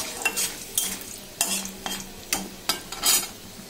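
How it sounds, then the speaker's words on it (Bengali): Bori lentil dumplings fry lightly in oil in a wok on a gas stove, a soft sizzle broken by repeated sharp scrapes and clinks of a spatula stirring at an uneven rhythm. "এবার বড়িগুলোকে আমি হালকা করে ভেজে নেব।"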